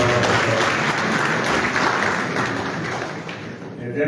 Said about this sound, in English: He's here to give a round of applause